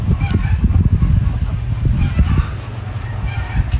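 Steady clucking from a flock of chickens on a farm with goats, scattered squawks and low farmyard noise throughout, fairly close and busy.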